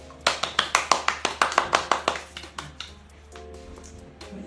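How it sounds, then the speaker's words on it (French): Hands clap about fifteen times in a quick, even rhythm, close and crisp, then the claps stop and a quieter, faint background hum continues. "on peut applaudir"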